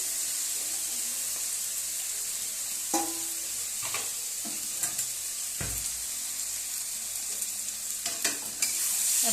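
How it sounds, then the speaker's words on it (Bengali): Rice tossed into hot oil and stirred for egg pulao, a continuous sizzling hiss with intermittent scrapes and knocks of the spoon against the pot, close and without talk. "এবার আমি চালটা ওই তেলের মধ্যে দিয়ে দেবো, দিয়ে ভালো করে কষাবো"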